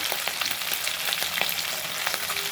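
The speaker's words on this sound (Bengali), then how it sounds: "এরপরে আমি মাছটা তো মোটামুটি ভাজা হয়ে গেল খুব বেশি ভাজবো না" Hilsa fish fries in hot oil in a wok, a dense steady sizzle with crackling pops and spatters, close and continuous with no talking.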